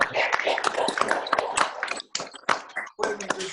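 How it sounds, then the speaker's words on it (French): People clap into their microphones at the end of an online conference talk, giving uneven close-up applause that breaks off and restarts in ragged bursts. "vous pouvez, si vous voulez, applaudir"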